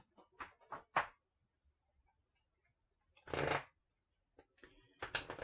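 Tarot cards being shuffled for a reading, short riffling bursts in a quiet room, a few quick rustles followed by pauses and then another longer shuffle.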